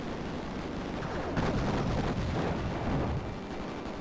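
Underground cannons fire and explosions go off in the shooter game Raptor, a steady, loud wash of booming blasts and crackling bursts that swells in the middle before easing slightly.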